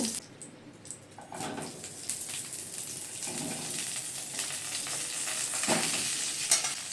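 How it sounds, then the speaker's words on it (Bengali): Cauliflower frying in hot oil in a wok, a steady close sizzle with stirring scrapes and occasional bursts, no talk. "কড়াইয়ের একই তেলের মধ্যে আমরা ফুলকপিটা দিয়ে দেব"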